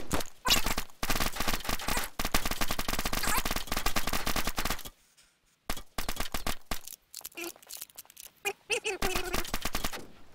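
Gunfire in the video game DayZ: dense bursts of automatic fire and rapid shots, loud and close, with a short silent break midway before more scattered, stuttering volleys.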